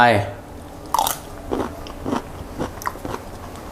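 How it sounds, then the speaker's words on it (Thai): Close, crunchy biting and chewing of pickled mustard greens in steamed tubtim fish curry, with irregular crisp crunches and a short murmured voice near the start. "ยิ่งเคี้ยวผักกาดดองเนี่ยกรอบกรอบกรุบกรุบ"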